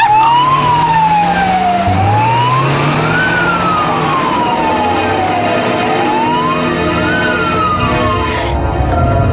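A wailing emergency siren, the kind an ambulance uses, sweeps up and down in slow cycles. It is loud and close, rising and falling steadily with no talk over it.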